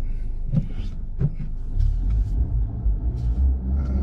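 A Honda Civic Type R FL5 engine during a hot lap at a quarter-mile drag run, a low rumbling drone with a few sharp bursts early on, steady and close.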